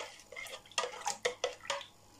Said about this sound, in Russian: Давайте все размешаем,